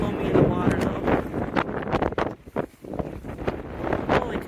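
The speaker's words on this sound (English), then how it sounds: "Oh my goodness, it's windy." Strong wind buffets the microphone in loud gusty roars at Canal Park on the Lake Superior shore in Duluth, Minnesota, with people talking over it and water faintly in the background.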